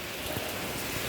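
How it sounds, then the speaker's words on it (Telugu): Heavy rain pours down in Anantapur as a dense, steady hiss of broadband noise. The downpour is loud and unbroken, with no voices. "వాన్ అయితే భారీగా పడుతుంది అన్నమాట."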